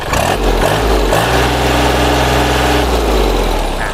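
A used Kubota L3608 farm tractor's engine revved up, a loud close diesel roar with a rising pitch that holds at high speed and then eases off toward the end.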